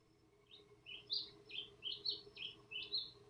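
Song of the Inti tanager: a run of sharp, high tweeting notes that grows into a steady, evenly spaced sequence, distinct against low ambient noise.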